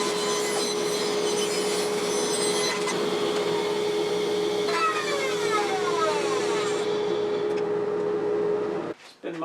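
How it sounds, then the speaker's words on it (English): Bandsaw roughing out a circle from a wood scrap, a steady close whine with an even hum, a blade tone shifting midway, then cutting off abruptly near the end. "just rough it out on a bandsaw"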